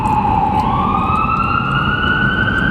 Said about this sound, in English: It's the second ambulance that's taken 395 southbound